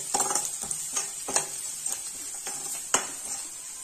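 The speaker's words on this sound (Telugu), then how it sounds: "వీటన్నింటిని ఈ ఆయిల్ లోనే బాగా వేయించాలండి।" Chili powder and garam masala fry in oil for a potato curry, with a soft sizzle under repeated scraping and clinking of a spoon stirring in the pan, close up.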